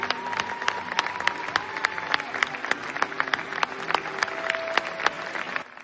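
Sustained applause from a standing crowd at a film festival premiere, dense rapid clapping continuing steadily throughout with a few brighter tones rising over it.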